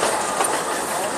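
The Frisco Silver Dollar Line tourist train rolls along, a steady broadband rumble and rattle of railcars in motion, close and continuous with no voices.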